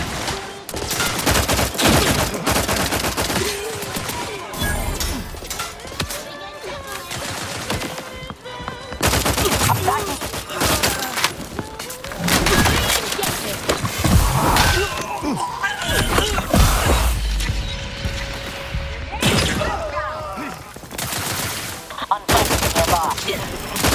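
Sustained gunfire in The Outer Worlds 2, dense rapid bursts and single heavy shots, loud and close, running almost without pause with impacts and clatter mixed in.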